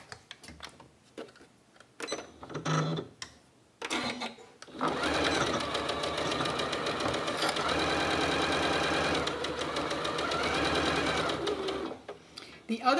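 A sewing machine stitches a zipper pouch. A few short bursts with pauses come first, then a long, steady, close run of rapid stitching that stops near the end. A voice speaks during the early part.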